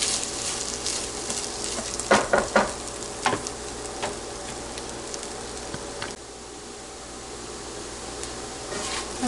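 Dry rice toasts in a pan for Spanish rice, a steady soft sizzle and crackle with a few sharp stirring scrapes and clinks near the start before settling quieter.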